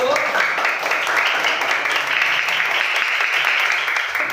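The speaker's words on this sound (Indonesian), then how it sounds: "tepuk tangan dong buat kelompok 1" A classroom of students claps for a group after its presentation, sustained, fairly loud applause close by, with voices faintly mixed in beneath the clapping.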